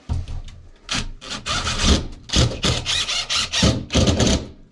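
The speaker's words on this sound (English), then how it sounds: "I'm going to show you how it self-taps into the bracket" Self-tapping screws drive into the metal bracket of a Panasonic WhisperChoice retrofit exhaust fan, giving a close, loud series of grinding, rasping bursts with short pauses between them.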